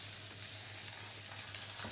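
Mackerel fillets sizzling in a hot pan, a steady, bright crackle and hiss with a low hum beneath, constant and moderately close, no voices.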